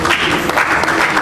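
A short, dense burst of audience applause at a public event, many hands clapping loudly and close by.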